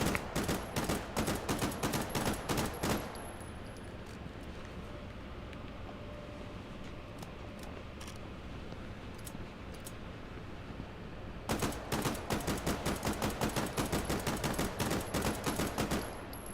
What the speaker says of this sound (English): Very nice pistols.